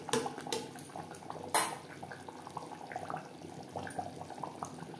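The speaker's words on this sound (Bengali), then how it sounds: "দিয়ে দেবো জল" Water poured into a pot of browning mutton for biryani, a close splashing burst followed by a soft clatter of pot and utensil, with light bubbling and dripping under it and no speech.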